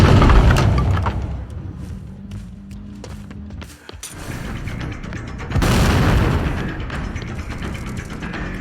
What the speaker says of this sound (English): That was a terrible flashbang attempt.